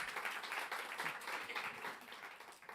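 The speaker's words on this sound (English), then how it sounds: "Big round of applause for that." Steady applause from a crowd at a marketing conference, a dense patter of many hands clapping continuously at a moderate distance, fairly quiet and even throughout.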